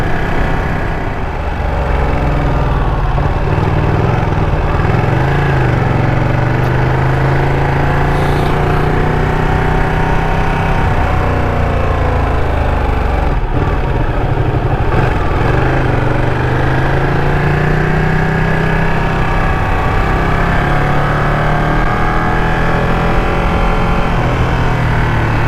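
Ducati Panigale 959 sport motorcycle ridden through villages in Tamil Nadu, a loud continuous engine drone with shifting pitch and heavy wind rumble, steady throughout with no talk.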